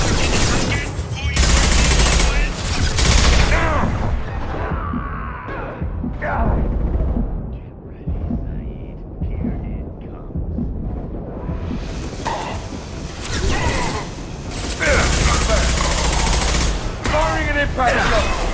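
Dense, loud bursts of gunfire in the video game Mass Effect 2, rapid volleys cut by short lulls with whooshing effects between them, a voice occasionally heard beneath the shooting.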